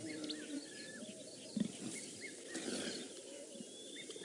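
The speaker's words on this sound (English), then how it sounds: "red-chested cuckoo just calling very close to us." A red-chested cuckoo calls close by on a safari drive, its whistled notes rising over a soft wash of other birds and insects in the open bush.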